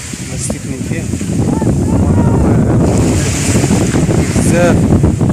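Sea waves wash and roll against the beach while strong wind buffets the microphone, a loud, continuous roar that swells steadily, with faint voices in the background.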